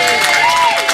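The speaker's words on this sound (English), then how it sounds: "And a huge round of applause for our hosts, Ottikas, Jackie Vines and her staff." Audience applause and cheering for the hosts at a book event, a loud crowd roar with clapping and a rising voice or whistle over it, close and continuous.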